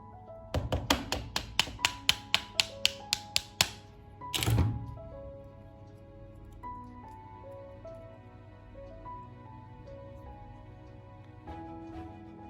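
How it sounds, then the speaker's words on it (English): A metal pin being knocked into a car grab handle motion damper on a Polo 6R: about a dozen quick, sharp taps in a steady run, then one heavier thump, with quiet background music afterward. "Just give it a slight knock."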